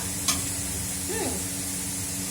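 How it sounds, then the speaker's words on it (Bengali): Onion fries in a pan on a home stove, giving a soft, steady sizzle with a brief scrape of stirring near the start, heard close up and fairly quiet, with no talking over it. "পেঁয়াজটা একটু ভাজা ভাজা হোক"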